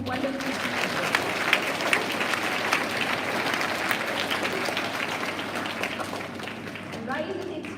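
A school assembly audience of students and staff claps steadily for two honored guests, a full, even wash of applause with a low rumble beneath, easing off near the end.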